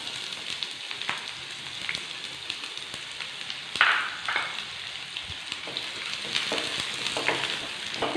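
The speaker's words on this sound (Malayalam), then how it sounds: "ഓയിൽ നന്നായിട്ട് ചൂടായിട്ടുണ്ട്. ഇതിലേക്ക് നമുക്ക് ഒരു സവാള ചെറുതായിട്ട് കട്ട് ചെയ്തതാണ്," Finely chopped onion dropped into hot oil, a close crackling sizzle that swells as the pieces hit the pan, with a few sharp spatters and stirring scrapes, steady and moderately loud.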